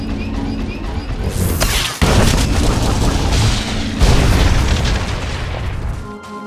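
Heavy explosions as Gormak cannons are destroyed in Star Wars: The Old Republic, a series of loud, booming blasts with crashing debris, one big impact near two seconds and another near four.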